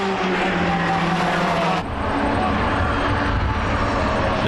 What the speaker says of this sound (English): look at the speed difference of Bruce Mannon trying to get around Jeff Sparks here in the Triumph Dolomite.